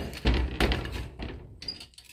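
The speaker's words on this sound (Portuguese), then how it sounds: "Deixa eu tentar abrir essa porta aqui." A door being opened in the outdoor area of a home with a wood-burning stove, giving a few heavy thunks and knocks close by, with quieter scraping after.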